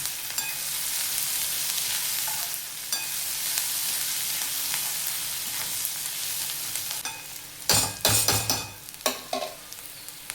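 Onions frying in oil for onion-tomato chutney give off a steady, bright sizzle, with a few louder scraping and stirring knocks near the end.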